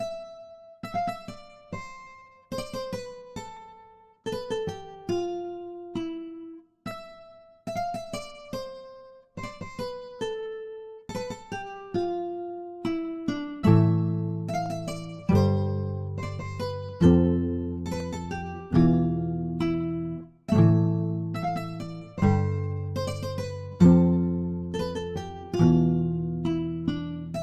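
A plucked guitar loop from the free Vinyl Guitar software plugin plays picked notes in a steady rhythm, then moves into fuller repeated strummed chords in the second half. It sounds clean and moderately quiet.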